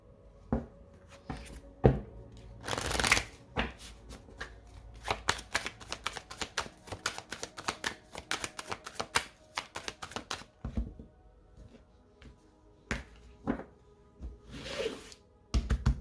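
Tarot cards being shuffled and dealt onto a surface, close rapid riffling flicks and soft taps in irregular bursts with short pauses between.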